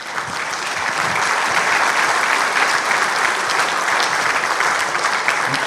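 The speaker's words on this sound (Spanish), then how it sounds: "a quien pedimos un fuerte aplauso," Loud, sustained applause from an evening forum audience on seismic risk in buildings, swelling quickly after the start and holding steady and dense throughout, close by with no speech over it.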